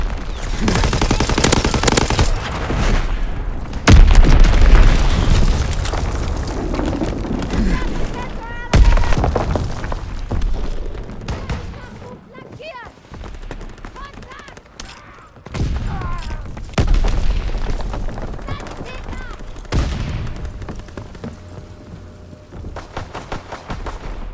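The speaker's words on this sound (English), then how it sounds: "Enemy bomb incoming! Get to cover!" Explosions and gunfire from the World War II video game Call of Duty WW2, with loud booms and bursts of rapid fire in repeated waves, mixed with in-game shouted voices.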